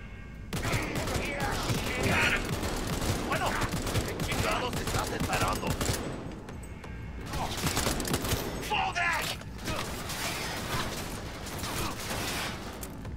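Gunfire in the video game Cyberpunk 2077, a dense, loud stretch of rapid shots and bursts packed together with brief lulls, mixed with mechanical clatter and game noise.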